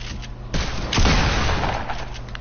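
Gunshots in Fortnite, a couple of loud close booming blasts with a rumbling tail, heard over low game noise.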